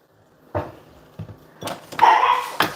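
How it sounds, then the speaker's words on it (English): Dogs bark indoors in a home kitchen, giving a handful of separate sharp barks that grow louder and closer toward the end, with no talking. "Sorry if y'all start hearing my dogs bark."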